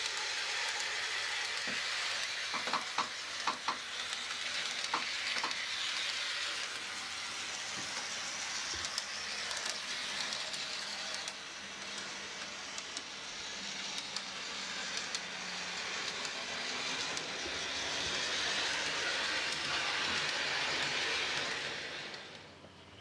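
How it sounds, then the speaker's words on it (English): Revolution Trains Class 128 model locomotive fitted with DCC, running on a test track at a range of speeds; a steady, close, soft whirring hiss carries on unbroken for the whole stretch with no talking. "The loco was exceptionally quiet and circulated the test track really smoothly at a variety of speeds."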